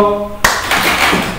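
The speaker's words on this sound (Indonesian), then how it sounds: "Kita tepuk tangan" A group of children in a classroom clap hands together in a sudden burst, brief and close after a moment of sustained tone.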